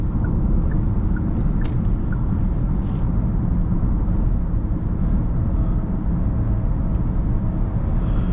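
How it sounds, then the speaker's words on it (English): Steady low tire and road rumble inside the cabin of a Genesis GV80 2.5T on 22-inch rims, cruising at highway speed. The noise is continuous and even throughout, with no talking. "Little bit of tire noise, not bad considering the 22-inch rims."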